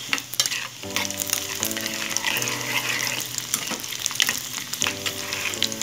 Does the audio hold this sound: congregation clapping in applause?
no